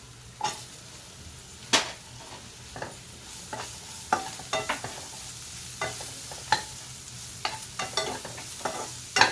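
Ridge gourd being stirred and fried in a pan, with a steady soft sizzle under repeated sharp spatula scrapes and clinks against the metal at an irregular rhythm, close and fairly quiet.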